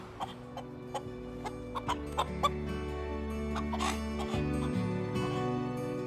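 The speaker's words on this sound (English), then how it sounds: "The hens do an important job at this time of year." Hens cluck softly in a garden, a scatter of short clucks and calls over a steady low hum, moderately close, with no talk.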